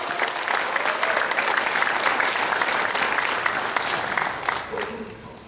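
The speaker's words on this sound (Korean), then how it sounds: "뜨겁게 환영의 박수!" A church congregation applauds loudly to welcome a pastor to the pulpit, a dense, sustained wash of clapping that carries on for several seconds before tapering off near the end.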